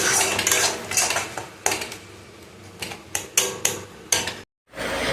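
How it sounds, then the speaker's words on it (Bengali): Spice paste stirred in a pan over a low flame, a run of close metallic scraping and clinking strokes at an irregular rhythm, then a brief drop to silence before a final burst. "বেশ 5-7 মিনিট ধরে আমি মশলাটাকে লো ফ্লেমে আমি ভালো করে কষিয়ে নেব।"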